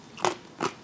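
Two sharp, close crunches of a salty carnivore crisp being bitten, each a short crackly snap about 0.4 seconds apart, with no talking.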